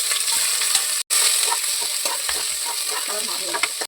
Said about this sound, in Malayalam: ആവശ്യത്തിന് ഓയിൽ ഒഴിച്ചു കൊടുക്കാം ജീരകം ഇട്ട് കൊടുക്കാം പട്ട ഗ്രാമ്പ് ഏലക്ക ഇട്ട് കൊടുക്കാം